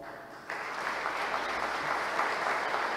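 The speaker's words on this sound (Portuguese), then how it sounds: "e eu queria pedir uma salva de palmas." Audience applause at a ceremony granting an honorary citizen title in Maceió, a steady mid-level wash of clapping that swells from about half a second in and holds evenly to the end with no talk over it.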